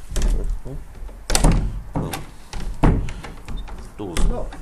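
A door in an abandoned house in Sussex is tried and found locked. Several loud thunks and rattles come close by as it is pushed and pulled, with a voice heard in between.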